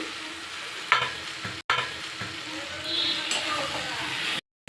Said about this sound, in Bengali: একটু কষিয়ে নেব, খুব বেশি কষাবো না, সর্ষে আছে যেহেতু বেশি কষানো যাবে না।